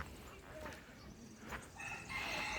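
Native chickens and ducks kept in a park crow and cluck, faint and fairly distant, with a brief crow partway through and a stronger crow near the end, over low background noise.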